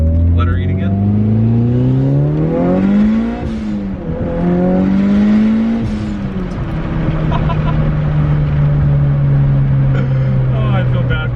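A Mitsubishi Evo with an open dump revs hard. The engine wails up and down in pitch in repeated loud pulls, close by, with a turbo hiss and people talking excitedly over it.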